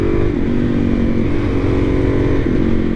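A 2023 Suzuki DR-Z400SM supermoto being ridden and leaned through corners: its single engine drones loudly and steadily throughout, with small rises and dips in pitch as the throttle shifts.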